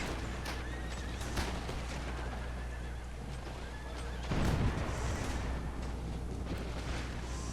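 Horses whinny and neigh amid a dense Total War video game battle din, with hoofbeats and a deep rumbling boom midway; no talking.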